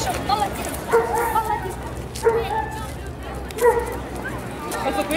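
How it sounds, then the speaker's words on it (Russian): A dog gives several short yipping barks at close range amid background chatter, with people talking around it. "Да, смотри, какая собака."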